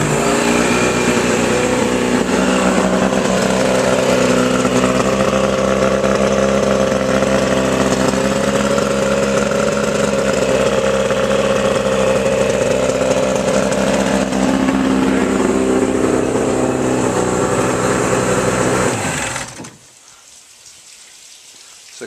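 A 1970 Mercury outboard motor, hooked up to water with the choke on, runs loud and buzzing at close range for about twenty seconds, then cuts out abruptly to quiet.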